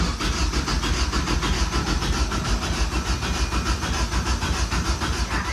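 A K24-swapped Honda Civic engine cranking and running, a loud steady mechanical drone with a rapid pulsing rhythm that holds for several seconds close by.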